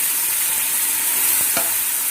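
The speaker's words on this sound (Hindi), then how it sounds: "अब जिंजर गार्लिक का पेस्ट डाल देंगे। इसको भी अच्छे से इसमें भून लेंगे।" Ginger garlic paste sizzles with browned onions in a pot for Pakistani mutton biryani, a loud dense close hiss with a couple of sharp stirring scrapes near the end.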